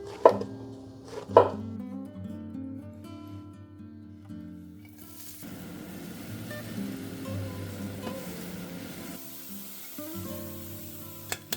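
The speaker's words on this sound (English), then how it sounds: "then slice leeks and mushrooms to gently saute them." A knife slices leeks and mushrooms on a board for a home-cooked sauté: a few sharp cuts come close at the start over steady background music, followed by a softer, continuous hissing texture.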